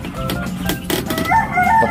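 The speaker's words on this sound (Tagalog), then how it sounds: "Itong mga broiler po." Broiler chickens in a poultry coop cluck steadily, with a rooster-like crowing call rising near the end, close and fairly loud with a continuous flock murmur underneath.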